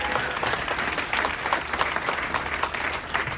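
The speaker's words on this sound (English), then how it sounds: "Clap it up for the birthday boy one time" A comedy club crowd in Greensboro applauds at a stand-up show, a steady wash of clapping that stays fairly even and moderately loud from start to finish.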